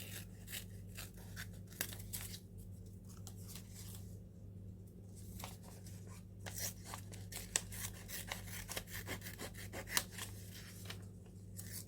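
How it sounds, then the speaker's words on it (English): Small curved nail scissors snip through paper for a collage, giving crisp, irregular cuts close to the microphone with brief pauses between bursts of snipping. The room is otherwise quiet. "I'm using nail scissors"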